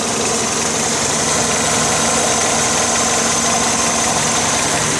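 Honda Civic engine idling after a new alternator was fitted, a loud, close, constant engine hum with a faint high whine, steady throughout.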